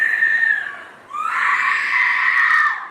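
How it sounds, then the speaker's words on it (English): A boy's cousin screams at a pool, a loud sustained shriek close by that dips briefly, then rises into a second long piercing scream, with no speech. "The cousin's screams are chilling."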